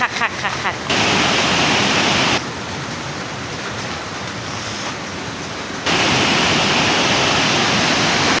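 Rushing water at the Tat Lak 5 waterfall in Xay district, Oudomxay, a dense roaring wash that fills the whole clip, stronger in the opening and closing stretches and softer in the middle, with no clear voices.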